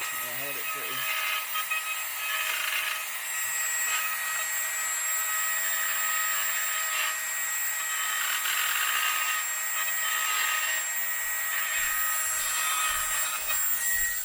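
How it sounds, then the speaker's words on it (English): A Dremel rotary tool cuts into a mud flap for a Land Rover Defender L663, giving a continuous high-pitched whine that changes pitch as the load varies, close and steady throughout. "just be careful with the Dremel because it can sort of fly and hop about"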